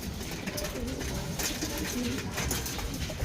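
Soft, repeated pigeon coos over a dense, steady background of many birds, continuous throughout with no clear gaps.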